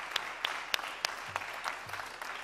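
An audience at the Maketón Maeloc 2020 music awards in Vigo claps steadily, with distinct nearby hand claps popping out of a broad, even roar of applause.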